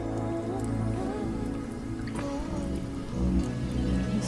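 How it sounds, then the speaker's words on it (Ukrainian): Hot syrup is poured into a jar up to the brim for preserves, a continuous liquid trickle and splash heard close up over the whole stretch, steady and fairly loud. "Заливаємо доверху і закриваємо металічною кришкою."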